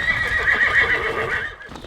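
A ranch horse gives a loud, quavering whinny lasting over a second, with faint hoof clops beneath it.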